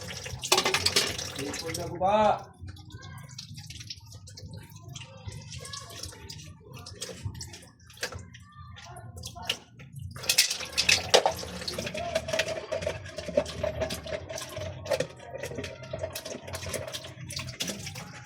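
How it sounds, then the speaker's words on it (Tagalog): Dishes being washed under running water, with steady splashing and flow, clinks of plates and a voice talking over the sound at times. "mahugas na lang tag plato mga kadagat"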